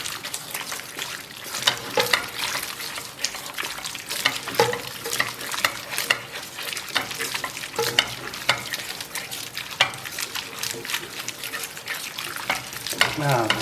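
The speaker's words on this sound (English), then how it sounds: "So just vigorously stir it for another minute or so." Cacio e pepe pasta stirred vigorously in a pan with starchy pasta water, a steady wet clicking and slapping with faint sizzling running continuously throughout, close and moderately loud.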